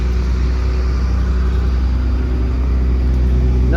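Fairbanks Morse stationary engine running at an outdoor tractor show, a loud, steady low-pitched throb that continues without a break, with no voices.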